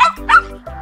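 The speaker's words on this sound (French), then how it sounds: "Le plus petit est le chihuahua." A chihuahua gives two quick, high-pitched yaps close by, with a short whiny tone between them over a soft musical bed.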